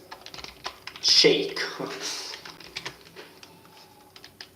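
Typing on a computer keyboard at a desk, a light run of close key clicks with a brief louder burst, under a spoken word.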